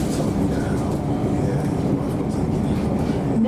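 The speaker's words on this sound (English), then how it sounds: "This is the train to Liverpool Street via Seven Sisters." A London Overground Class 710 train runs steadily on its rails toward Liverpool Street via Seven Sisters, a constant loud rumble and roar from inside the carriage, with no clear voices.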